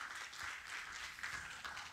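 An audience of young people at a youth event claps and applauds in a steady, dense patter that holds evenly throughout, with no speech over it.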